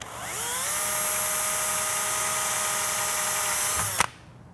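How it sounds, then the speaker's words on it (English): A power drill whirs steadily at high speed for about four seconds while drilling a pilot hole in EVA foam, then cuts off abruptly, leaving quiet. "So I'm just gonna put a pilot hole right there."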